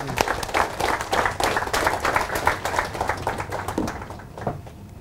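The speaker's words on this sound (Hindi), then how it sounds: "जोरदार तालियां इनके लिए।" Loud, sustained applause fills the hall for a speaker at a Forever Living India motivational event, dense clapping that fades slightly toward the end.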